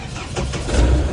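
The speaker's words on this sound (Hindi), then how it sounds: "अभी मैं गाड़ी स्टार्ट कर रहा हूँ" A car engine cranks and catches near the microphone, settling into a steady low rumble that grows slightly louder toward the end, with no talking.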